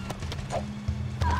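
The Reaper mount in Jak 3 sets off through a deserted city at night, with quick, close hoof-like clip-clops and a short whinny-like call, all over a low steady hum.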